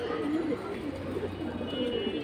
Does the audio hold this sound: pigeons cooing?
yes